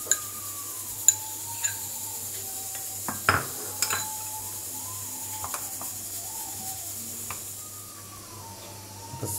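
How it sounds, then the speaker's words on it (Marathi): Mango pulp and powdered sugar are stirred together for homemade amrakhand, with a spoon tapping and scraping against the bowl in scattered light clinks over a low background hum. "पिठी साखर ना आंब्याचं पल्प टाकून घेतले, मिक्स करून घ्यायचं सर्व, चांगला फेटून घ्यायचा"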